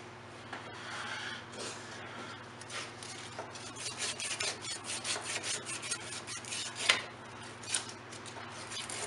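Emery cloth scrubs back and forth over the rusted crankshaft of a Honda HRC 216 K3 lawn mower, a soft, close rhythmic rasping with quick strokes and no talking.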